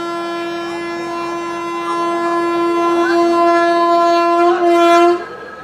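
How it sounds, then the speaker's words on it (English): Duronto Express train, 12219 Mumbai LTT–Secunderabad, at departure, with a loud sustained horn holding steady tones for about five seconds, a pitch bend near the middle, then cutting off abruptly; station rumble continues underneath. "So that's the clearance of a train and it is about to start."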